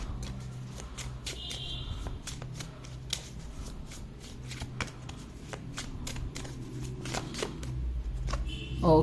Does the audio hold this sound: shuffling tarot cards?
yes